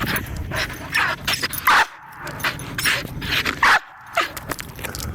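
A working cattle dog barks and yips excitedly while playing fetch outdoors in the cold, loud bursts of barking repeating in quick irregular succession with brief pauses between.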